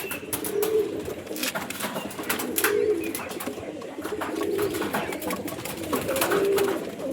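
Pigeons in a netted loft give low, rolling coos that repeat every couple of seconds over a steady bed of rustling and shuffling.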